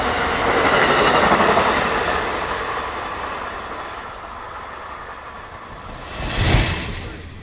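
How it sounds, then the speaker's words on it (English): Amtrak's westbound Lakeshore Limited rolls past a station, a loud steady rumble of railcars and wheels that slowly eases off, then a brief sharp swell near the end, with no talking. "A short time later, Amtrak's westbound Lakeshore Limited passes the station."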